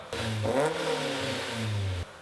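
A Subaru STi engine with equal-length headers revs up and holds a rising, throaty drone for about two seconds before cutting off, heard fairly close.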